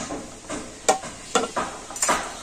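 A spoon scrapes through a thick semolina mixture in a bowl, giving several separate, close, fairly quiet stirring strokes with a few sharper scrapes, and nobody speaks.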